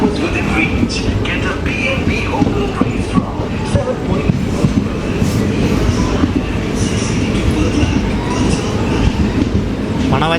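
Passenger train 17248 pulling out of Kalahasti station, a loud continuous rumble and rattle of carriages heard from on board, with faint wheel squeal and some talk mixed in.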